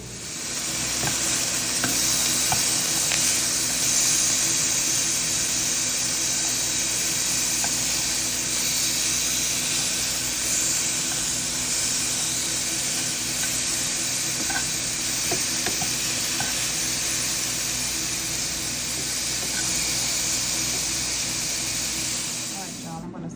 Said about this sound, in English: I'm gonna throw it in that same skillet that I cooked the ground meat in